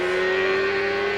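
A CART race car during qualifying at the 2002 Cleveland event gives a steady, high engine whine, heard close and continuous for a brief moment without any voices.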